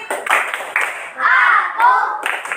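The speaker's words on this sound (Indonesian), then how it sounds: "Tepuk konsentrasi." Children in a classroom perform a concentration clapping routine, with a few sharp claps at the start and then chanted voices in a steady rhythm, close and fairly loud.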